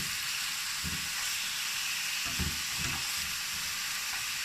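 Chicken pieces fry on a hot plate with a steady, close, broadband sizzle, broken by a few low bumps of handling; no one speaks.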